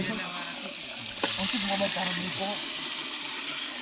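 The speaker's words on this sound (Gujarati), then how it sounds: "પાણી નાખ દીધા." Water is poured into a pot for boiling potatoes at a Holi party, making a steady gushing splash that grows slightly louder partway through, while people talk over it.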